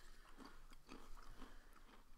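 Crunchy salty snack chips are bitten and chewed in a taste test, giving several soft, rhythmic crunches close up and fairly quiet, with no talk during the chewing.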